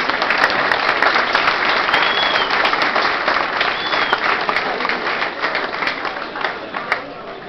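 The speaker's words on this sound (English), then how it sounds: "Let's give them a big round of applause" A big round of applause and cheering from a boxing crowd fills the hall for two fighters awaiting the judges' decision, loud and sustained, with an announcer's voice over it and a few whistles, tapering near the end.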